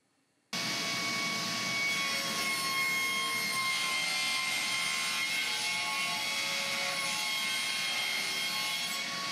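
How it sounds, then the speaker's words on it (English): Wood planer fitted with a silent power cutter block starts up and runs steadily, a loud continuous whirring hiss with a faint tonal whine, close and alone, while shaping a workbench shoulder vise part. "To those of you who have not used the silent power cutter block, you should try it."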